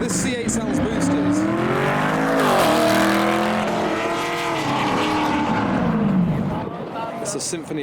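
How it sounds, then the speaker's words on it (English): A boosted Chevrolet Corvette C8 accelerates at the SEMA 2022 show, its engine tone sweeping up and down in loud, sustained pulls while someone talks over it. "This C8 sounds boosted."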